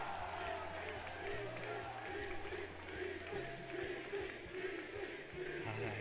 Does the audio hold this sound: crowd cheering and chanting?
yes